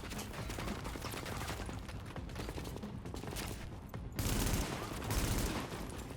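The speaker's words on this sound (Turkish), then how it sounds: "Ağır otomatik silahlardan bir tanesi." Heavy automatic weapon fire in the video game The Division: dense, continuous crackling volleys throughout that grow louder and heavier near the end, with no clear speech over them.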